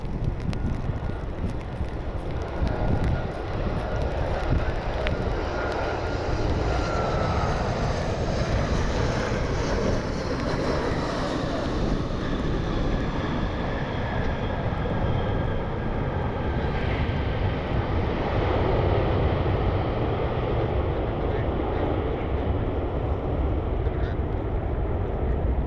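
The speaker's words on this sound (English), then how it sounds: "Avelo 8403 should be bringing NC State into town," An Avelo airliner jet inbound from Raleigh-Durham rumbles steadily overhead, a broad continuous roar with wind buffeting the microphone throughout.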